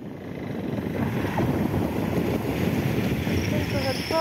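A motorcycle rides through water in Iceland, giving a continuous broadband rush of splashing water and wind noise that swells after the first second and stays loud throughout.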